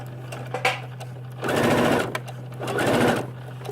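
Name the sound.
sewing machine stitching a concealed zipper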